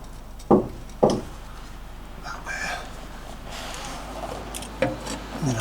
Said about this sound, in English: And then I'm just going to remove the last of these nuts.